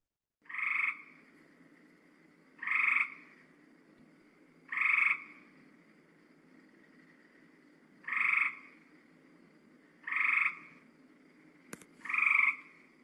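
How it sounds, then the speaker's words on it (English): A gray tree frog gives six evenly spaced whirring trills, each a short pulsed call on a flat pitch about two seconds apart, clear and close against a quiet wetland night background. "So here is the whirring of the gray tree frog."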